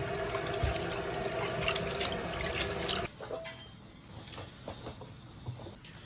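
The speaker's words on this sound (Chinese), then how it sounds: "做好个羊蹄，洗一下。" Lamb trotters are washed under a running tap in a home kitchen, a steady splashing stream for about three seconds that then drops to quieter sloshing, handling sounds and drips.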